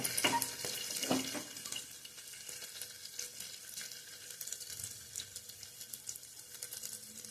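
Garlic sizzles in hot oil for a one-pot dal tadka, a steady crackling hiss with a few scraping stirs early on, close and moderately loud with no talking.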